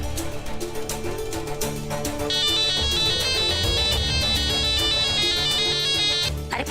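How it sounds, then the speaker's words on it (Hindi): A melodic phone ringtone plays over busy background music, its bright repeating tones coming in partway through and continuing steadily. "अरे फोन उठाइए ना मिस्टर जी"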